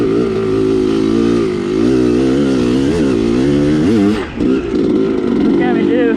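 A motorcycle, its bolt held in with Gorilla Tape, runs loud and close as it is ridden, with rising and falling revs and a brief dip near the end, heard over wind and some talk.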